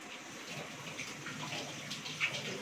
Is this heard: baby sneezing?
no